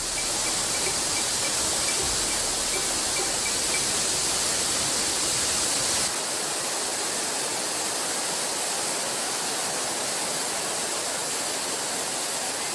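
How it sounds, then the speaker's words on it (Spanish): A waterfall on the La Fortuna river in Costa Rica, falling from a considerable height, produces a steady, broad roar of rushing water with no voices. The tone shifts slightly partway through but the roar continues evenly. "Al final del camino, nos encontraremos ante una cascada de agua que cae desde una altura considerable."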